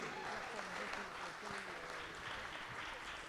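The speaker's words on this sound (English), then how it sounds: "big applause to Irina Shennick" Steady applause from the crowd at a World Shooting Para Sport medal ceremony in Lima, greeting the Ukrainian gold medal winner of the mixed 50m rifle prone SH1 event. The clapping is continuous and fairly distant, with faint voices underneath.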